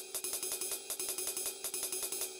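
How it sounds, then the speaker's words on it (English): Sequenced ride cymbal and hi-hat pattern, with the ride delayed so its strikes fall on the offbeats between hi-hat ticks, creating a denser, even stream of bright metallic hits. "If I switch the delay on for the ride cymbal, you'll hear it move to the offbeat."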